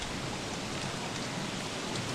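Steady rain falls in the video game Don't Starve, a dense, even hiss of drops with no break, close and constant throughout.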